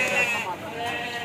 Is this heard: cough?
no